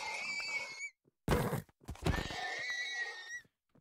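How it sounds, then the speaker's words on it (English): In the Minecraft video game, a horse dies with a strained, wavering whinny, followed by a harsh burst of noise and then a longer wailing cry, all loud and close. "God, the noise horses make when they die."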